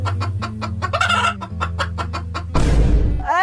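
Repeated rooster clucks in a quick, uneven series over a low background hum, ending in a burst of broadband rustling and a short squawk.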